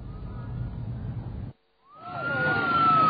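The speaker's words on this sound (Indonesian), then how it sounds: "Raungan sirene ambulan yang membawa korban letusan Gunung Merapi terus berdatangan ke Rumah Sakit Panti Nugroho, Sleman." An ambulance siren carrying volcano victims from the Mount Merapi eruption arrives at a hospital in Sleman, Indonesia. The siren wails steadily, cuts out briefly, then rises again louder and nearer.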